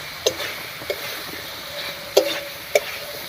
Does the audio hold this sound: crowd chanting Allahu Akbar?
no